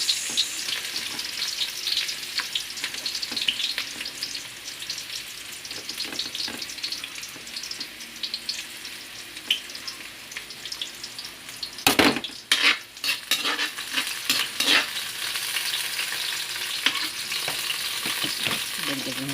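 Onions fry in a pan for chicken adobo, a continuous close sizzle with spatula stirring and a burst of clattering pan scrapes midway.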